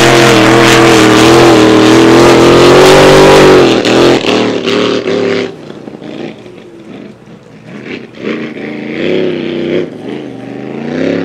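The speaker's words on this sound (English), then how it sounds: "as Tate Ramsey now starts to open the butterflies up on that Brent Nidri supercharged big block Chevrolet. And sounds very strong" Supercharged big block Chevrolet race boat engine revving hard during practice, a loud sustained roar that cuts back partway through, then settles into a lower, rougher burble with intermittent surges.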